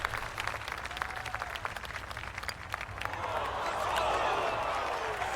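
A virtual golf crowd in EA Sports PGA Tour murmurs at first, then swells into a broad booing roar as a putt nears the cup. A commentator's voice can be heard faintly over it.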